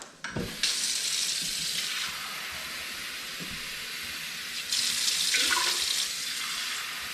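Tap water running into a measuring cup while preparing Mexican rice, a steady hiss that stops briefly and then starts again louder, with no talking.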